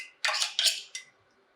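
A spatula presses and stir-fries chunjang black bean paste in about 100 ml of warm oil in a frying pan, giving three short, sharp metallic scrapes and clatters that fade into near silence.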